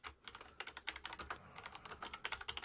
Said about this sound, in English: type in a message.